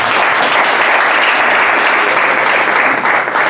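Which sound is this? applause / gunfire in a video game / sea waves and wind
applause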